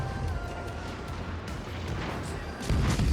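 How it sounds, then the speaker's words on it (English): Ship guns firing in a World of Warships naval battle, heavy low booms under a steady rumble, with a loud, close salvo near the end. "just keeping up the fire with the guns"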